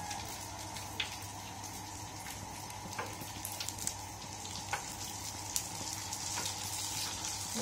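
A few pieces of rice paper dropped into oil that is not yet fully hot give off a faint, steady sizzle with small scattered crackles and pops, with no talking.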